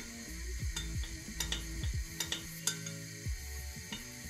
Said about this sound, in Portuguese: A maisena pode ter decantado, então dá uma mexidinha